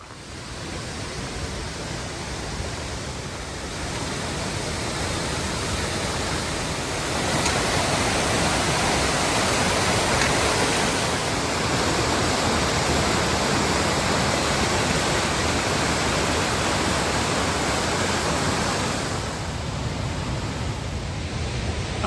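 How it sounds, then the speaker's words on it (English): Rushing creek water at the North Fork of Mono Creek crossing, a waterfall-fed mountain stream, roaring steadily and broadband at close range for the whole stretch, with no voices over it. "We just did that cool waterfall creek crossing."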